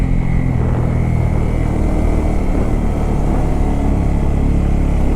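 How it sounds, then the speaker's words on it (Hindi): A Bajaj Pulsar N250 motorcycle drones along mountain curves in second gear, its engine a loud continuous roar mixed with wind rush, steady throughout with no voices. "जो बाइक इतनी ज़बरदस्त साउंड कर रही है ना"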